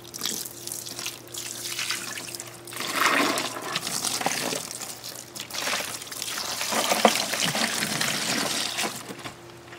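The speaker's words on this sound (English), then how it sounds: "now I want to start adding some filtered water until all the meat is completely submerged" Filtered water pours and splashes into a container of hog meat until it is submerged, a steady running gush with brief pauses, close and fairly loud.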